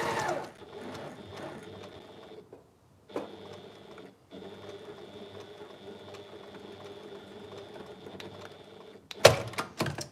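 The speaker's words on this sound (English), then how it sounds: "And then we sew all the way down." A sewing machine runs in steady bursts as it stitches a long seam at a short stitch length, with a couple of brief pauses and a sharper clatter near the end.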